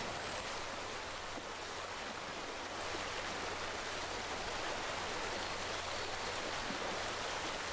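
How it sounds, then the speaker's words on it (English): Gently flowing water in Call of the Sea, a steady soft hiss and rush of moving water that stays even and quiet throughout with no voices. "Some slight, slowly wobbling, wavy water."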